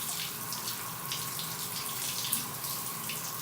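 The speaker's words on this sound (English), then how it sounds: "Why am I standing in the middle of my shower, fully clothed, with the water running?" Water from a shower runs in a steady, even hiss, continuous and fairly close, with no voices over it.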